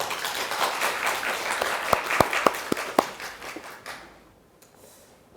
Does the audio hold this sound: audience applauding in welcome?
yes